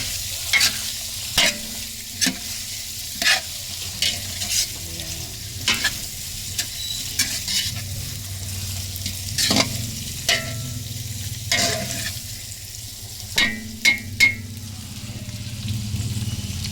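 Chicken breast bones sautéing in a pan, a low steady sizzle under repeated sharp scrapes and clacks of a utensil stirring at uneven intervals, close and fairly loud.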